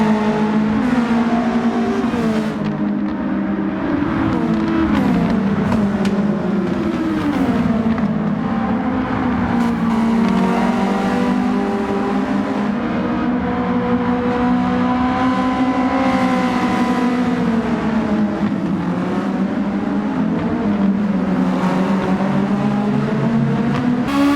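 Race cars in a Gran Turismo 7 sprint race, engines droning loud and continuous with rising and falling revs as gears shift, one car running close in the slipstream of another.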